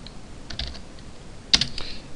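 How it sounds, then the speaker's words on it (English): Light typing on a computer keyboard, a handful of faint clicks spread out, then a brief sharper cluster of keystrokes near the end. "Let's go ahead and type email"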